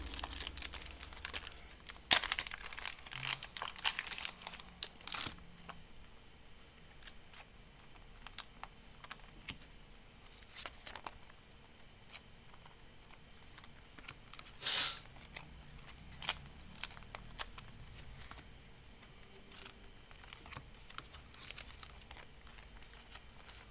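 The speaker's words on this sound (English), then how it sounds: "We'll sleeve up the cards" Trading cards slid into plastic card sleeves, a run of soft crinkles, rustles and small plastic clicks in an irregular rhythm, close and quiet, with no talk.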